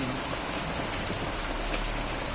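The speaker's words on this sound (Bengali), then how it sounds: "ডেস্কিতে আমি একটু জলও দিয়ে দিচ্ছি" Water is poured into a cooking pot set on a stove, giving a steady, dense rushing hiss that stays constant and fairly loud throughout, with no voices.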